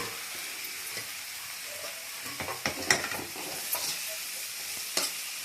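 Gongura (sorrel) leaves frying in oil in a pan for a pickle, with a soft steady sizzle and occasional scraping stir clicks from a spatula, close and moderately quiet, with no talking.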